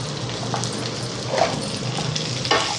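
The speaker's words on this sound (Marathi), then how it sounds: "त्याच्यामध्ये मी 2 चमचे तीळ घालणार आहे, कारण तीळ लगेच भाजून निघतात ना" White sesame seeds roast in a pan for amla chutney, giving a steady close crackle and sizzle with a few scraping stirs, no voices.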